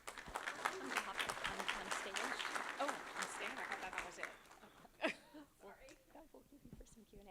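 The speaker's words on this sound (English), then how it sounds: "a round of applause to Ruth from the Bay Area Host Committee" Applause at a San Jose Eastside small business town hall, a dense burst of crowd clapping that fades after a few seconds into scattered claps and murmuring voices.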